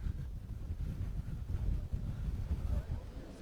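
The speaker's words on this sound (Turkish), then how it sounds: "Fırtına derecesinde oldukça kuvvetli bir rüzgar söz konusu." Strong, storm-force gusty wind buffets the microphone in a continuous low roar, rising and falling in waves with no voices, at a factory fire in Milas Organized Industrial Zone.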